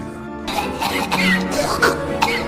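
Heavy, harsh coughing from a housekeeper suffering an allergic reaction to peach fuzz powder, several rough bursts over about two seconds with a throaty, strained quality and no speech.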